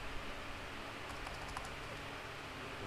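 Quiet keyboard typing, a short run of light key taps over a steady background hiss, with no voices.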